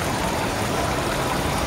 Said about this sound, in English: I love the sound of the water flowing